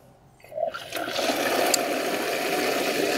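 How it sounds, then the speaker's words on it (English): Water rushes through the pipework of a KHS Hygiene Flush Box PRO PURE LITE after a valve is opened, starting with a clunk and rising into a steady, loud, continuous hiss and gush. "To start the flush, I'm opening this valve"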